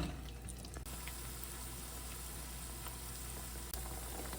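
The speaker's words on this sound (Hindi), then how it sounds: "ब्राउन होने तक, थोड़े से हल्के से ब्राउन हो जाएंगे तब तक तलेंगे हम इसे" Chicken bites shallow-frying in oil over a low flame, a steady dense sizzle that runs throughout with faint crackles and a brief clatter partway, close and even.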